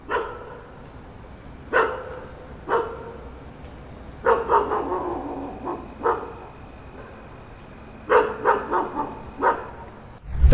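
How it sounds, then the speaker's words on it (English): A dog barks in several sharp, loud bursts and short clusters while running after a police officer, with quiet gaps between them and a steady high tone in the background. "A cop got scared when a dog ran after him, not knowing it only wanted to play"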